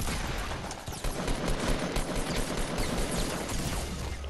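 Rapid automatic gunfire in the Fortnite Battle Royale video game, a dense, continuous barrage of shots layered close and loud, with bursts overlapping throughout and no clear gaps.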